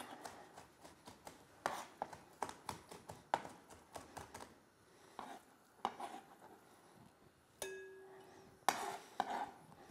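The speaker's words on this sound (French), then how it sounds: "Et on continue à hacher la sardine" A knife chopping sardine on a cutting board, a steady series of close, crisp thuds with brief pauses and a clink of utensils near the end.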